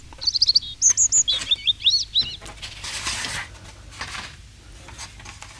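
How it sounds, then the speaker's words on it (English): A robin sings a series of high, thin, warbling phrases close by, followed by fainter bird calls and rustling against a quiet outdoor background. "And then followed by a robin."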